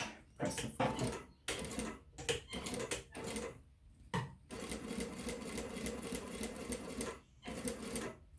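A sewing machine runs a short test seam on handbag material using a 1/8 inch presser foot, giving steady rapid stitching bursts separated by brief pauses, loud and close with no talk.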